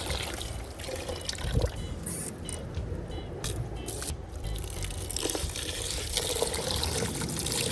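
Rice wash water is poured out outdoors, a soft continuous trickle and splash heard faintly over steady background noise, with no talking.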